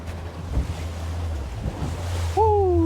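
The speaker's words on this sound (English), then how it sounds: "We got to put the motor in gear and get us out of this." A fishing boat outboard motor on Gulf waters near barrier islands, starting up at the end with a rising tonal whine after a stretch of wind and water noise, close and moderately loud.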